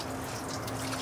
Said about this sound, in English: I'm just going to flush this off. I got a pitcher of water here.